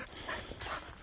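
Dogs whimper and yip softly outdoors at a campground in Nebraska, with short, uneven, high-pitched whines close by.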